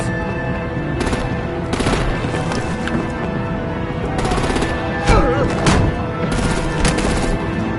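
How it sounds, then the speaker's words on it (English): Gunfire and artillery in the Batman: The Enemy Within video game make loud, dense bursts of rapid shots that repeat through the whole stretch over a busy battle background. "Break out the artillery and disable their vehicles!"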